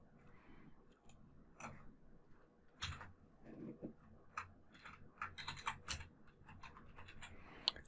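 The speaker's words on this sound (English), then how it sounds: "So I'll type in Andy." Someone typing at a computer keyboard, a quiet run of close key clicks in uneven bursts with a few louder taps, no voice present.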